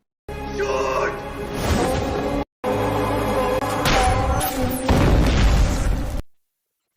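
Grenade blasts from the action film RRR boom out in a dense, loud rumbling mix of explosions and crashing debris, cut off abruptly in places with brief silence between.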